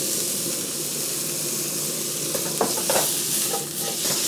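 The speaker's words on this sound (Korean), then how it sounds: "기름을 살짝 두르시고 마늘 갑니다. 마늘. 미스고기 있잖아요." Garlic and 150 g of minced meat fry in a thin film of oil in a pan, a constant close sizzle broken by a few scraping stirs and clinks toward the end.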